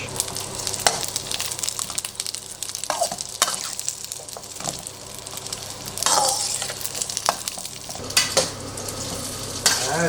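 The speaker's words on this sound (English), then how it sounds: "I just keep on stir frying." Chinese lap cheong sausage stir-frying with garlic in a wok: steady sizzling with repeated scraping and clattering of a utensil against the pan, with no voices.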